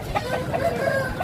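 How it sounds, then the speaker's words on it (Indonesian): Bangkok chickens, red Bangkok and grey kelawu fowl, cluck steadily at a poultry market in Ketanggungan, Brebes, Central Java, with several soft overlapping calls over a continuous low crowd din. "itu ayam kelawu sama ayam Bangkok merah"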